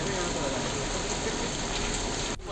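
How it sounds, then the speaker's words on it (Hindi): Heavy rain driven by strong wind in Korba makes a dense, steady hiss close by, continuous throughout before cutting off abruptly near the end. "यहां तेज हवा के साथ ही बारिश हुई"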